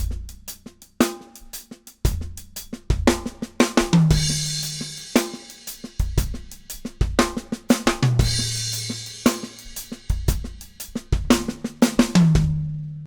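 A drum kit plays a loose shuffle groove with kick, snare and hi-hat, adding accented cymbal crashes and low tom hits every couple of bars, with no voices.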